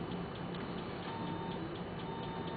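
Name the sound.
Pure Data patch beeping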